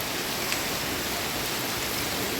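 Rain falls steadily outdoors in Kharagpur, a dense even hiss of drops on surfaces filling the whole stretch with no voices.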